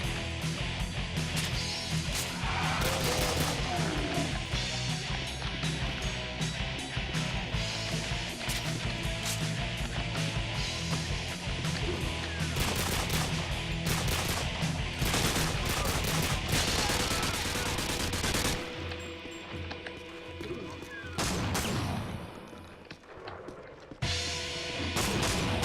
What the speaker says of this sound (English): we are going through him just with the little 9mm pistol